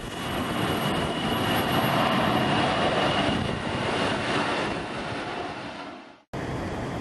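Boeing 787 Dreamliner jet airliner at Tokyo Haneda Airport, a loud, steady broadband engine roar that holds for about six seconds, cuts out briefly, then resumes at the same level; no one speaks.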